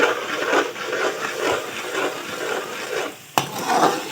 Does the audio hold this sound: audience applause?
no